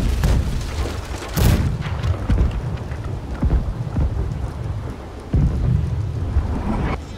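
Ship cannons firing in Blackwake, several deep booms a second or two apart over a constant rushing, storm-like roar, with no talking.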